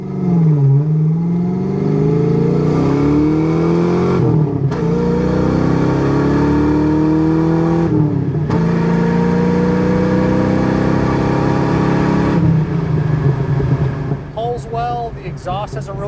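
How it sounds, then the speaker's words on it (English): The 5.0 V8 of a 1991 Ford Mustang GT convertible revs repeatedly, its deep exhaust rumble rising in pitch and dropping back several times, loud and close, with a voice briefly at the end. "Exhaust has a really good note to it."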